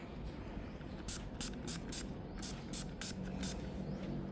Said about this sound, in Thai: ก็จะฉีดห่างๆ นะคะแบบนี้นะ